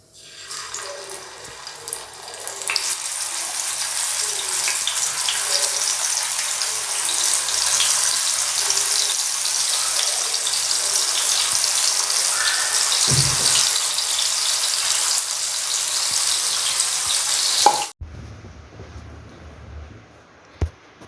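Banana slices sizzle and fry in a generous pool of oil on a tawa, a steady loud crackling hiss that runs continuously for most of the clip before cutting off abruptly near the end.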